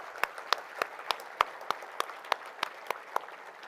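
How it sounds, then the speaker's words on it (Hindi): Sparse, faint applause at a railway award ceremony, the Ati Vishisht Rail Seva Puraskar 2023, with about a dozen separate claps in a loose, evenly spaced rhythm over a quiet room. "उन सब के लिए भी एक राउंड जोर से ताली बजानी चाहिए।"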